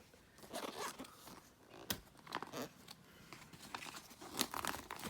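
Cardboard and plastic packaging of a Campark action camera is ripped open by hand, a close, quiet series of irregular tearing, crinkling and crackling bursts with no talk.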